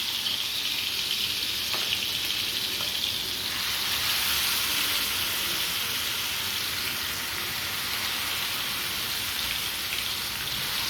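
Masala-coated fish roe fries in hot coconut oil on a low flame, giving a steady, close sizzle and crackle that runs continuously with no talking over it.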